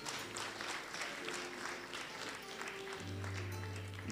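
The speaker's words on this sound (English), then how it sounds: "Let's give them another round of applause." Congregation applauding at a church pastors' appreciation and farewell service, a steady wash of clapping throughout with a low sustained organ-like tone entering near the end.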